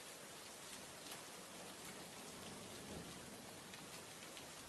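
Steady rain falls in a dense, even hiss with scattered drops pattering on a surface, quiet and continuous with no voices.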